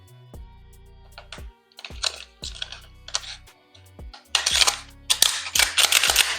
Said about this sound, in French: On percute à vide.